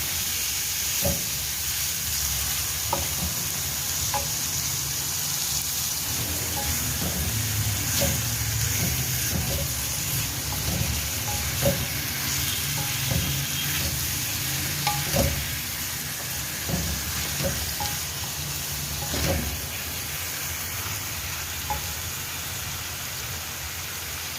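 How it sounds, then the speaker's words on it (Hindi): Chicken pieces fry in hot oil in a karahi for Lahori chicken karahi, a constant moderate sizzle punctuated by scattered sharp pops and crackles over about twenty-four seconds. "अब मैं ये चिकन को इस ऑयल में फ्राई करूँगी।"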